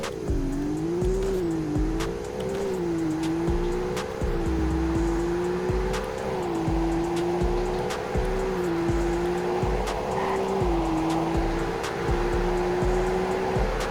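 A Roblox sedan with a 7-speed automatic accelerating hard in a speed test, a continuous loud synthetic engine drone whose pitch rises and dips through gear changes, with faint repeated clicks and no talking.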